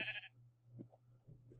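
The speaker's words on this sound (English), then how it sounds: "Sheep." A short, clear sheep bleat from the Minecraft video game rises near the start, then gives way to a steady low hum and faint scattered game sounds.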